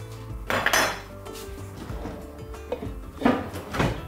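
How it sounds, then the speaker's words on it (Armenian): A metal lid is set onto a pot of borscht simmering with beets and broth, making two close clattering clanks about three seconds apart, with softer kitchen knocks between them. "ծածկում ենք կափարիչով"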